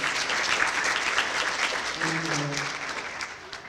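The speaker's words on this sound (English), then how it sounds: "Give them a round of applause." Applause from a banquet audience at an academic excellence dinner, a dense field of clapping that gradually thins, with a voice speaking briefly partway through.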